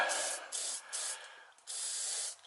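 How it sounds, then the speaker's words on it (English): WD-40 is sprayed in short bursts onto a hot, seized brake line fitting, three close hissing sprays separated by brief pauses. "douse it off in WD-40"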